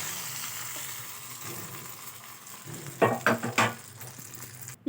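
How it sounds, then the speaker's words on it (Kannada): Curry leaves and cumin sizzle in hot oil for tempering a radish pachadi, a steady soft hiss that swells into a few sharper crackling spurts near the end. "ಈಗ ಒಗ್ಗರಣೆ ಹಾಕೋಣ ಅಷ್ಟೇ"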